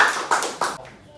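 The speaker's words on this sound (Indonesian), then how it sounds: "Tepuk tangan dulu buat Patut." Students in a gymnastics class clap their hands in three sharp, close rhythmic bursts, then fall quiet.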